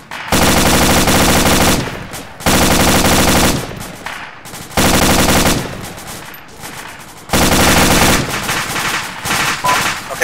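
Gunfire during an infantry assault in the military video game Arma, long loud bursts of automatic fire separated by short pauses, with faint voices between the bursts.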